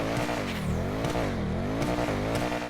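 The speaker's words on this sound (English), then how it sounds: "the vehicle just sounds great" Engine of the performance-upgraded Osiris car in GTA 5 Online, revving repeatedly in a rising and falling rhythm, loud and close, with no speech.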